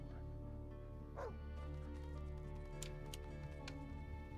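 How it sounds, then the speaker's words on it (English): A dog whimpers in the game Divinity Original Sin 2, a few short, thin high cries over a steady bed of game music and ambience, fairly faint. "The dog was whimpering, but it sounds like it's a cat meow."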